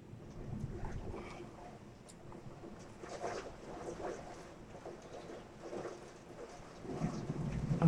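Steady rain patters throughout, with low rumbling in the background that swells toward the end, like distant thunder. No one speaks.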